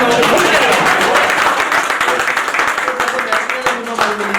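A crowd at a retirement party for teacher Mrs Uma Sharma breaks into loud, sustained applause, dense clapping that thins slightly toward the end, with a voice faintly audible beneath.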